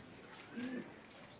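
A male pigeon in a loft of old-generation birds gives a single short, soft coo, fairly close but quiet, over a low background of faint chirps.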